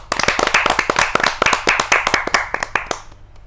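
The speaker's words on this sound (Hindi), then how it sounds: "तो आइए उनका स्वागत करते हैं जोरदार तालियों के साथ, सुषमा सवेरा जी।" A crowd at a Hindi kavi sammelan poetry gathering claps to welcome a poet, a dense, close burst of sharp hand claps that thins out and fades toward the end.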